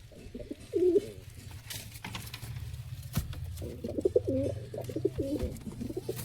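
Caged pigeons coo in soft repeated bursts, a few near calls early and a longer run of cooing later, over faint background noise with no talking.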